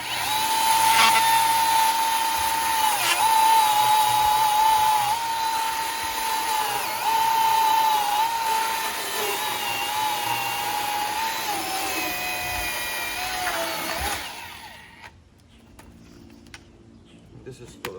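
A Milwaukee M18 cordless top-handle chainsaw with a 14-inch bar whines steadily as it cuts through a freshly felled, wet tree, holding a high, even drone for about fourteen seconds before stopping abruptly, leaving near silence.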